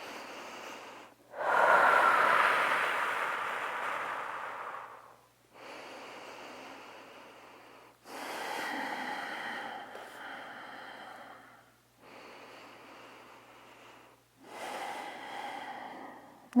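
Deep, slow yoga breathing in a quiet room: four or five long, audible inhales and exhales, each lasting a few seconds, separated by short silences, close and fairly soft.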